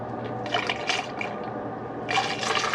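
Coolant flowing through the cooling system of a Pontiac Solstice, Saturn Sky or Opel GT fitted with check valves, a close watery gurgling and trickling that swells in short surges over a low steady hum.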